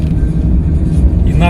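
Steady road traffic on a main road in Japan, cars rumbling past close by with a continuous low drone and a brief whoosh near the end, heard from near the roadside.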